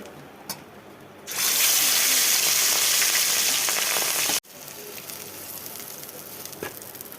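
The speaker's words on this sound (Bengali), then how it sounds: "বন্ধুরা, এইভাবে আমি মাছগুলো ভেজে নিয়েছি" Fish frying in oil bursts into a loud, dense sizzle that starts suddenly, holds for about three seconds and cuts off, leaving a quieter, softer crackle afterward.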